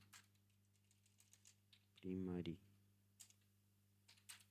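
Keys on a new computer keyboard are struck in scattered, light clicks that come irregularly over a low hum, broken by a brief loud voiced sound in the middle.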